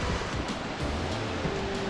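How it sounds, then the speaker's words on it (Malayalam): Mallalli waterfall in Coorg, Karnataka, roars as a steady, broad rush of falling water, a continuous dense wash heard from nearby with no voices. "നമ്മൾ കണ്ടോ വെള്ളച്ചാട്ടം"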